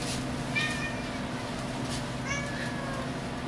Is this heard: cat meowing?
yes